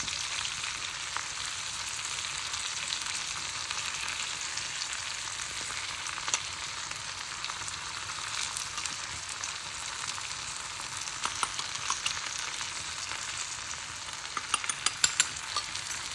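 Stuffed okra fries in a pan with a steady, close, hissing sizzle throughout, and a few faint scraping clicks of stirring near the end.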